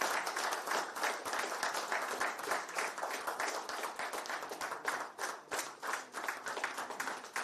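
At a corporate business continuity award ceremony, a room of people claps steadily, the individual hand strikes audible as a rapid, slightly uneven patter within a full, sustained round of applause.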